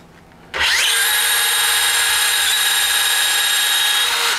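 A rotary drill with a 13 mm ONISHI bit starts abruptly and bores with a loud, steady high-pitched whine and grinding buzz for about four seconds, then cuts off, close and alone without talk.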